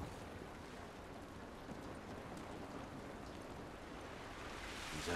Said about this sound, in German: Dieser Regen ist nicht gut für uns.